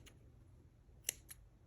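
Scissors cut cotton batting for a Santa ornament with two quick, soft snips close by against a quiet room.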